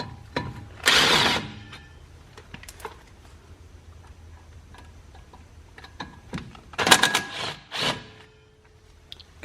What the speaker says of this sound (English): So now I'm going to just take these two screws out of the rotor here.